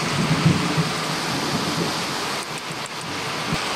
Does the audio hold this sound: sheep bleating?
no